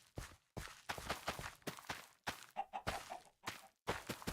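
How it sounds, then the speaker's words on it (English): Chickens cluck in Minecraft, a series of short, uneven bursts with gaps between them, mixed with footstep-like thumps, fairly quiet overall. "I hear chickens."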